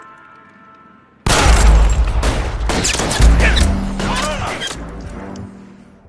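Gunfire in the L.A. Noire video game on PS4: a sudden loud burst of rapid shots and booms starting after a quiet lead-in, fading into echoing rumble.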